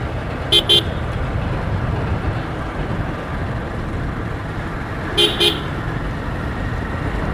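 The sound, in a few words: car horn honking in tunnel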